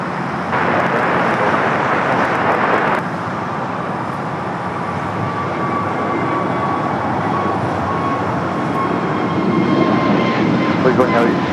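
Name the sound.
Boeing 787-9 Dreamliner landing at LAX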